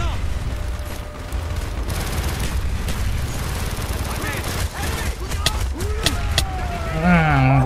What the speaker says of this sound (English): Oh, it's these damn rockets.